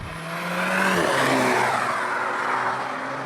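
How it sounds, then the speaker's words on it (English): A 2021 Volkswagen Golf GTI with a 7-speed dual-clutch gearbox drops a few gears and accelerates hard, the engine note climbing and swelling loudly, then settling into a sustained high whir. "I'll just knock it down a few gears and give you some acceleration."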